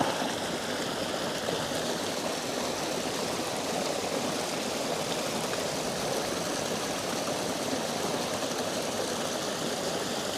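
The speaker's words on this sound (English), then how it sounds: "Quite a through flow of water in here." Clear water pours in a steady, unbroken rush at the base of a waterfall fed from a loch, loud and close with no pauses for the whole stretch.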